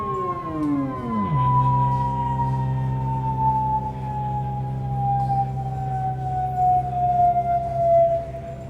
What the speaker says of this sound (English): So here we're just listening to the effects unit and bring back in the synth.